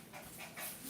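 A pet dog named Junior pants quickly and softly at close range, a steady breathy huffing with no voices over it.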